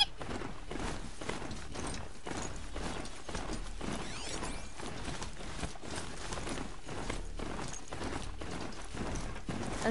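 In the Horizon Zero Dawn video game, a mechanical horse's hooves clip-clop in a steady rhythm with whirring, ratcheting machine sounds, moderately loud and continuous.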